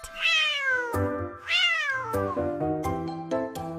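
A cat meows repeatedly, loud and close: two long drawn-out cries, then a run of shorter, choppier calls.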